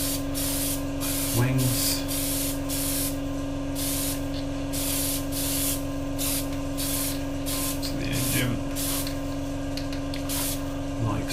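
Airbrush spray painting a Hasegawa 1/32 P-40 model kit, a steady close hiss of compressed air and paint running throughout, with someone talking briefly over it.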